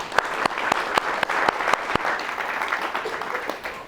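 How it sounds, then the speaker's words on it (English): A modest crowd claps steadily at a reunion weekend event remembering Richard Feynman, with a few sharp individual claps standing out, moderately loud and fading slightly toward the end. "this is more applause than Feynman ever got"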